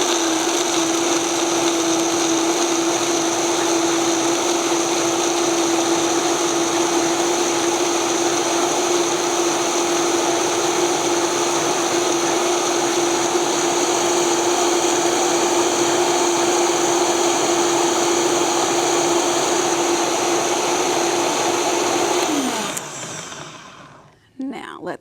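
A blender whirs steadily while blending an oil-free creamy pasta sauce, one loud continuous motor drone with a fixed pitch, running close for over twenty seconds before it winds down and stops near the end.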